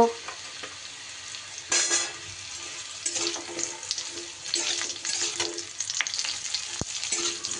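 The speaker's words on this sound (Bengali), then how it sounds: "উচ্ছেগুলো যখন এইভাবে ভাজা হয়ে যাবে, এইবার আমি আলুগুলো দিয়ে দেব উচ্ছের উপরে।" Potatoes go into a pan of frying bitter gourd, giving a steady close sizzle with stirring scrapes and a brief louder burst as they land, with no talking.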